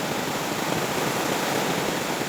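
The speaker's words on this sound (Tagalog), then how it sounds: "ang lakas-lakas ng ulan" Heavy rain pouring down at a home in Siquijor, a dense, constant roaring hiss that stays loud and even throughout with no voices.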